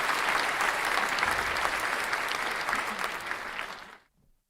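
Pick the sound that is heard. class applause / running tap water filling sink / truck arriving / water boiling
class applause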